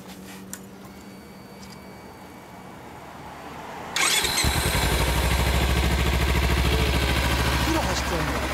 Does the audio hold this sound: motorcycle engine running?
yes